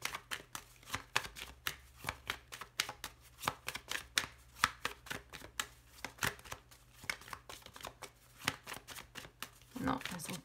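Tarot cards shuffled steadily by hand, a continuous run of crisp, rhythmic papery slaps and riffles repeating about every half second, close up, with a person talking softly underneath throughout.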